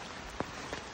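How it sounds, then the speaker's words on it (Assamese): Rain falls steadily in a village during Diwali as an even hiss of drops, quiet and fairly distant, with a single faint tap rising above it and no voices. "বৰষুণ কমাই নাই"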